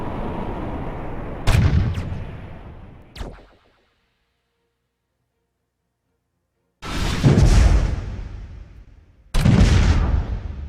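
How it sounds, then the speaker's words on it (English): Missile salvo launches and mass driver shots from space combat in the Master of Orion video game: loud booming blasts with sharp onsets and decaying rumbles, a burst early, a gap of silence, then two more heavy volleys, no talk. "Now the salvo of missiles is away. The mass driver shooting."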